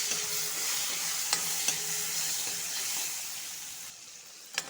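Onions and tomatoes sizzle in a hot pan with a steady hiss, and a spoon gives a few soft scraping stirs. The frying is close and moderate in level, with no talk.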